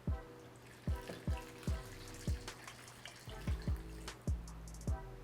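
Water added to butternut squash scraps in a pot to make stock: a run of drips and splashes falling in quick, uneven succession, close by and with no talking.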